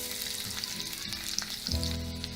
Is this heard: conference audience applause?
no